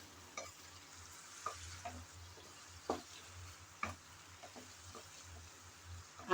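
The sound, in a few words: small shrimp being sautéed in a pan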